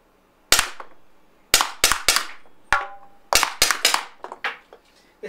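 RAM Combat CO2 pistol fires a run of about a dozen sharp, loud cracks, some in quick pairs and triplets, each snapping out with a short ringing decay and quiet gaps between bursts.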